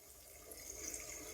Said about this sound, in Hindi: दही के साथ हम थोड़ा सा पानी भी ऐड कर देंगे,